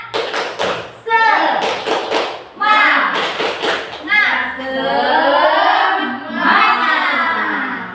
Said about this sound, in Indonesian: Untuk memacu semangat kita di pagi hari ini. UPT SD Negeri Pojok 3 luar biasa. Ya, seperti hanya tepuk semangat.